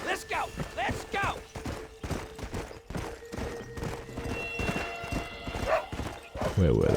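Horse hooves clip-clopping and a whinny in the video game Red Dead Redemption, rhythmic hoof beats with a neigh rising over the game sounds while someone talks throughout.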